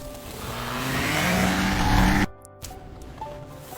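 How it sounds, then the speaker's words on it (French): An AI-generated motorcycle accelerates in a forest setting, its engine note rising loud and close for about two seconds before cutting off abruptly, followed by a quieter ambient tail with faint tones. "c'est une ambiance de forêt avec la moto qui accélère"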